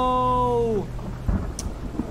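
Rain and a deep, rolling thunder rumble in the video game Alto's Adventure, a steady downpour hiss under a low boom, with a sustained musical tone fading out early.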